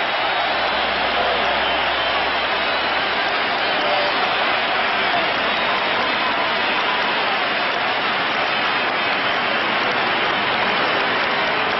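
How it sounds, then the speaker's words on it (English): Crowd at Shea Stadium during the 1969 World Series cheers and applauds in a broad, steady roar that holds without pause, distant and dense like heavy rain. "watch the crowd respond here at Shea Stadium"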